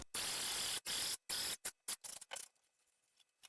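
A sewing machine stitching RC parachute fabric runs in close bursts of rapid mechanical whirring, with short stops between runs, then a few brief stutters before going quiet.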